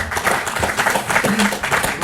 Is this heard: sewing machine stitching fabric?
no